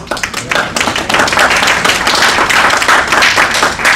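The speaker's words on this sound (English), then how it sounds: "So give them a round of applause." A conference audience at a philanthropy session gives panelists a round of applause, close, loud and crisp handclaps from a room full of people, starting with scattered claps and quickly filling into a dense, even roar.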